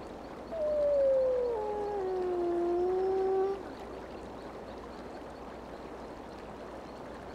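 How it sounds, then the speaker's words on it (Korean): A single long wolf howl in a video game rises, then sags and wavers for about three seconds. It stands out clearly over a steady rushing ambient background, then fades back into that background. "저 늑대가 와서 공격을 할 것 같은데."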